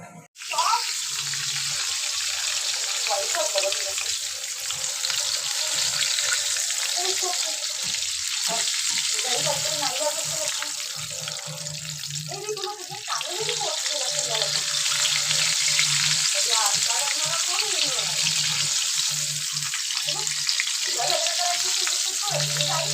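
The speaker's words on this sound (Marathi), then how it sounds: "आता आपण कढईत तेल तापवलेलं आहे। आता आपण तांदळाचं पीठ लावून त्याला फ्राय करूया।" Rice-flour-coated chicken heart pakoda deep-fries in hot oil in a kadhai, a loud continuous bubbling sizzle that persists throughout with occasional stirring movements.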